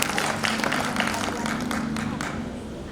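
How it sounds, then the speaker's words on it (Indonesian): An audience at a senior community church service claps together, a dense patter of many hands that starts strong and slowly thins over a few seconds, with voices mixed in. "mau dapat hadiah kasih tepuk tangan dulu di semua"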